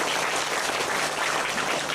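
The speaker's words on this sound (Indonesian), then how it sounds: "Saya minta tepuk tangan dulu dong" A crowd applauding at an Islamic sermon, dense steady clapping throughout, fairly loud and with no talking.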